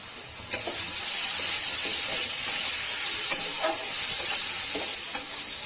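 Spices sizzle and fry steadily in hot oil in a pan for a fish egg pakora curry, a loud, close, even hiss with faint stirring clicks throughout.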